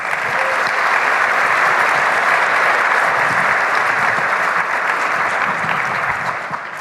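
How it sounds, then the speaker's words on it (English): Steady, dense applause from an audience cheering competitors at a startup pitch competition finale, sustained and loud throughout with no talk, easing slightly at the very end. "Let's give a round of applause to our competitors tonight."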